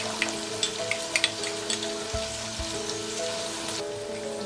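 Potatoes, French beans and other vegetables added to a pan of softened onion and tomato, a steady sizzle with a faint hum and a few sharp clicks and bumps of utensils near the start and middle.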